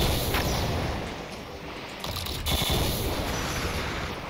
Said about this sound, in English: Oop, somebody just shoot at me